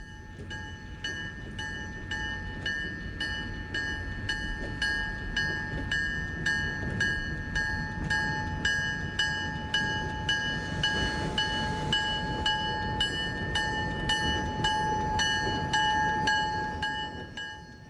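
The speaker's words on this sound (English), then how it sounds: "admire the old Alco as it eases the passenger train up to the station and comes to a stop" An old Alco diesel locomotive pulling a passenger train rumbles steadily close by as it eases into a station, while a long, loud horn chord sounds continuously over it, holding for many seconds.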